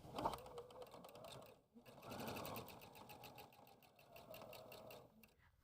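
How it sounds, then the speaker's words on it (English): A sewing machine runs steadily, stitching rows of fabric strips together for a pillow, with a brief pause midway before the needle resumes its fast, even chatter. "I'm going to pin in place and then stitch that row together"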